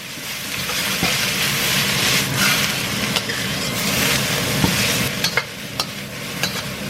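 Rice noodle stir-fry ingredients being stir-fried for char in a hot pan: steady broad sizzle with scraping and clacking of the utensil, sharper knocks toward the end, no talk.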